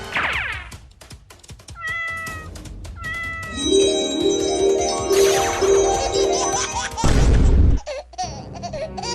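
Cartoon cat meowing in a Hindi animated comedy, several short high meows early on, then mixed with music, a loud boom and other cartoon effects, with no talk.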